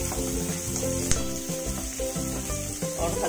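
Onions sizzle steadily in a hot pan with a bright hissing crackle up close, and one brief clink is heard along the way.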